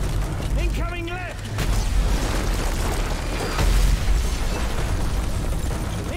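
Mortar shells exploding during a Call of Duty: Modern Warfare 3 battle, heavy booming blasts rolling one after another under chaotic combat noise, with brief voices in the mix.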